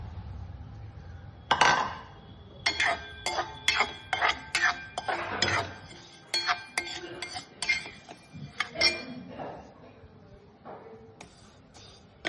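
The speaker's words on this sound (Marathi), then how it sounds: "गॅस पेटवला त्याच्यामध्ये तिळ भाजून घेऊत आपण आता" Sesame seeds roast in a pan over a gas flame as a metal utensil stirs them, making a run of sharp clinks and scrapes against the pan that thin out toward the end.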